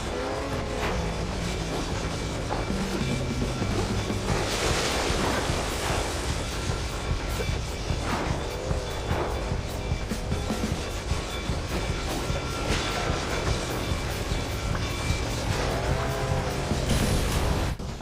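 In the Detective Mouse video game, a train rushes past with a steady, loud rumble and rattling wheels, mixed with game music and effects and no talking.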